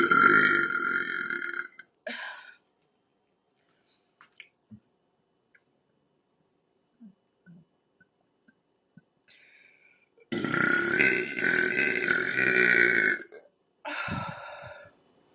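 Loud, drawn-out burps from a woman, one long belch at the start and another sustained one near the end, separated by near silence with faint small clicks and mouth noises.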